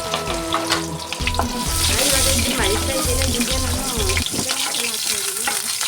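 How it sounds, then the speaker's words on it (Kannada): Onions fry in hot oil for chicken chops, a bright crackling sizzle running throughout beneath rhythmic low thumps and tonal background sounds, without clear speech. "ಈರುಳ್ಳಿನ ಹಿಂಗೆ ಫ್ರೈ ಮಾಡ್ಕೊಳ್ಳಿ."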